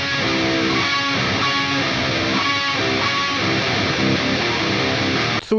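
Distorted electric guitar plays an intro riff, with layered guitar parts forming a thick, continuous wall of loud, gritty tone that cuts off abruptly at the end.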